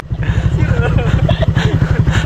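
A motorcycle engine rumbles close by with a pulsing low drone on a rough track to falls in Mindanao, while people talk loudly over it.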